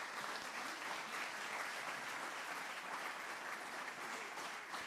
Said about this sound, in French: Des applaudissements pour Estelle Roquette